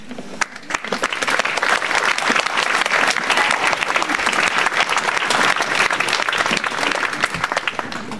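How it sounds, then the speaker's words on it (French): An audience applauds at a 2025 municipal New Year's greetings ceremony in Nilvange: dense, sustained clapping from a large crowd, loud and steady throughout with no break. "je vous demande d'applaudir Madame Corinne Jacques."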